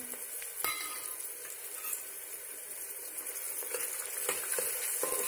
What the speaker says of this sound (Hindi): प्याज को हम हिलाएंगे